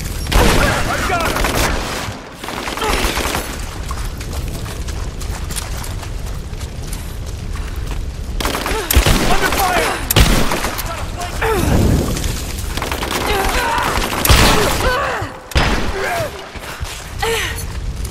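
Heavy gunfire and explosions in the video game Rise of the Tomb Raider, loud bursts and booms in dense volleys, with voices shouting in between.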